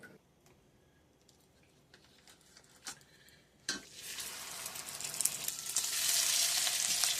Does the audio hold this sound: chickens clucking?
no